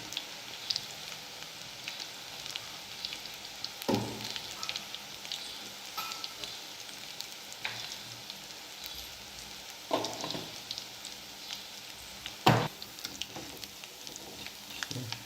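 Onion bajji bubbling in hot oil, a faint steady sizzle broken by a few sharp clinks and knocks.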